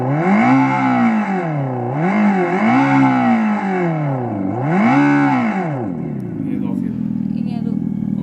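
Synthetic engine sound effect from a Revolt RV400 electric motorbike in Rebel mode, three rising-and-falling revving swells played loud and close, then fading into quieter mechanical noise.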